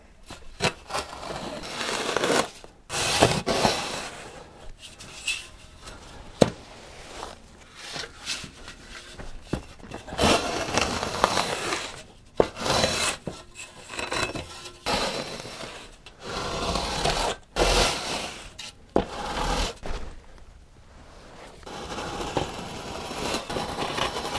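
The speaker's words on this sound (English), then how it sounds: "Now I can simply pull off the excess sand with a straight edge." Straight edge dragged over a sand bed laid for terrace paving with artificial stones, giving irregular bursts of gritty scraping and rasping strokes with short pauses between them, fairly close.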